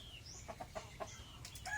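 Faint chickens cluck in short, scattered bursts over a quiet outdoor garden background, a few soft calls rising toward the end.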